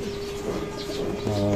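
Racing pigeons in a loft coo softly before feeding, a low murmuring hum over a steady background rumble, fairly close.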